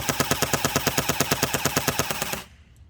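An Umarex AER16 electric .177 BB rifle fires on full-auto, a loud, rapid, even burst of about twenty shots over two seconds that stops abruptly, leaving quiet.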